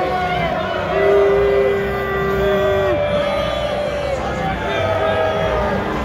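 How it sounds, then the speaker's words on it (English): A rally crowd boos Justin Trudeau on his arrival, a loud sustained wash of jeering voices with drawn-out boos rising and falling, close and continuous, with someone talking over the noise. "You could also hear them right now booing Trudeau as he arrives."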